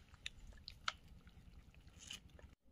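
Several puppies eating their food in a rural rescue setting, a quiet run of small close chewing, biting and squishy mouth sounds with a few sharper crunchy clicks, ending in abrupt silence.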